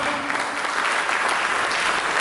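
Applause from a church congregation at a Sunday worship service fills the space, dense continuous clapping at full strength, evenly sustained throughout with no speech over it.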